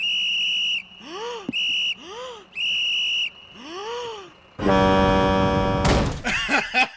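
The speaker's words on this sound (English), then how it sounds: "You're going to make me use my rape whistle!" A shrill whistle is blown in several sharp bursts, loud and close, broken by short gaps and a burst of louder clatter near the end.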